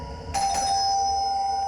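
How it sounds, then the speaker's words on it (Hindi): A single electronic doorbell chime rings out sharply and lingers as a sustained tone over a low background rumble. "कब से घंटी बज रहा है,"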